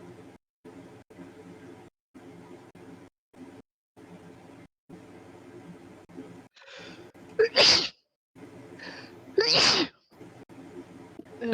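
Two loud, sharp human sneezes burst out close by in the second half, following a stretch of quiet, choppy talk-like murmur in a home setting.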